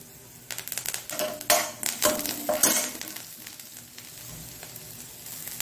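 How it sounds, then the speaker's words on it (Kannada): Onions sizzle in a spoonful of oil over a low flame in a pan for a Mangalorean tempering with curry leaves. Crackling bursts flare loudly in the first few seconds, then settle into a quieter, steady fry. "ಅದೇ ಪಾತ್ರೆಯಲ್ಲಿ 1 ಚಮಚದಷ್ಟು ಎಣ್ಣೆ ಹಾಕಿ ನಾನು ನೀರುಳ್ಳಿಯನ್ನು ಹಾಕಿ ಸಣ್ಣ ಉರಿಯಲ್ಲಿ"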